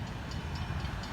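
An FEC freight train led by SD40-2 locomotive 716 in the Champion scheme rolls past close by, a loud, steady wash of rumble and wheel noise with faint rhythmic clicks on the rails and no voices.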